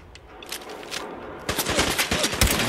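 Rapid automatic gunfire from a firefight in the video game Fallout 4, with dense bursts of shots that grow louder and more continuous in the second half over a busy game background.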